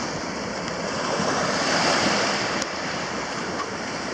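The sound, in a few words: ocean waves on a beach, Bastimentos Island Panama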